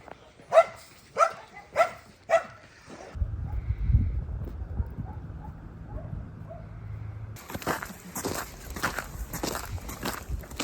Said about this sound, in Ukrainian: Воюєш з собаками всіма